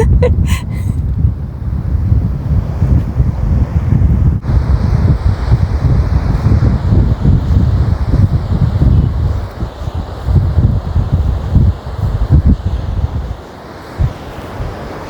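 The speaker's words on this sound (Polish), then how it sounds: "Wszystko byłoby dobrze, gdyby nie ten wiatr." Wind blasts loudly against the microphone on a hillside stairway in Alanya, Turkey, a constant rough rumble with gusts for a long stretch, easing slightly near the end.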